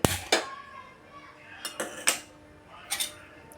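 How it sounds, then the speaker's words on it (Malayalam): A pan is set down on the stove with a series of close metallic clanks and clinks, spaced irregularly over a few seconds. "ആദ്യം ഒരു ചട്ടി അടുപ്പത്ത് വെച്ച്"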